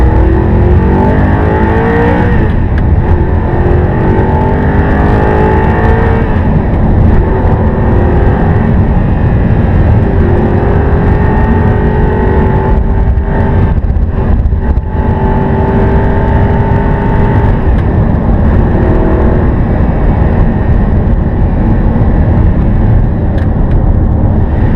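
Audi R8 engine heard from the cockpit, a loud sustained drone with rising and falling revs as gears change, close and continuous throughout without talk.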